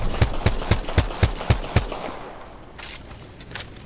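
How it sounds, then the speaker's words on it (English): Video game gunfire: about seven evenly spaced, punchy shots in a steady rhythm, then fainter, more distant shots trailing off. "they're getting shot at"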